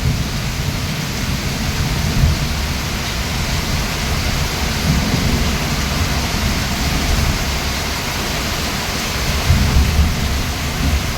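Steady, heavy rain pours in a dense roar, with deep low rumbles of thunder swelling through it, loud and continuous.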